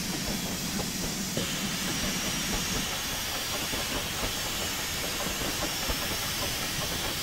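Steady loud steam hiss from a Peppercorn K1 steam locomotive self-cleaning in Train Simulator 2016 on the West Highland Line Extension, a continuous broad rush with faint rhythmic chuffing underneath and no talking.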